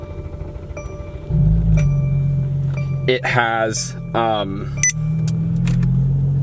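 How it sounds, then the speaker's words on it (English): A Mercedes C43 AMG engine cranks and catches, settling into a steady low idle rumble, with electronic chimes and a brief bit of speech over it. "If we start the car,"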